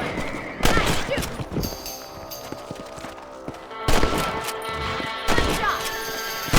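Sharp, loud rifle shots ring out several times in Red Dead Redemption while hunting rabbits outdoors, each crack standing apart with a short echoing tail.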